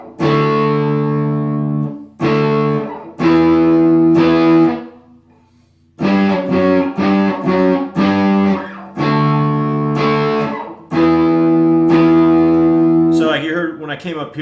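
Distorted electric guitar power chords strummed through an effects unit, several ringing held chords separated by short pauses, loud and close, ending with a brief bending flourish; no talking over the playing.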